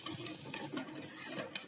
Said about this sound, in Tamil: கைவிடாம கலக்கிட்டோம்.